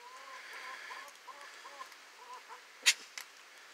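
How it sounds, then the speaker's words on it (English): Soft, scattered clucking and muttering from a rooster on a farm in a quiet space, with one sharp, loud squawk near the end. "That is an evil rooster."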